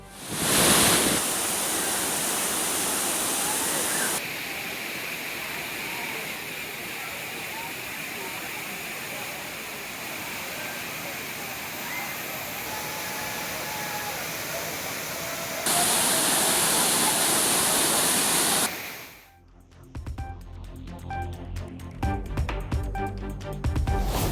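Thirparappu waterfall crowded with holiday bathers, a loud continuous roar of falling water filling the whole clip before it cuts away near the end to other sounds.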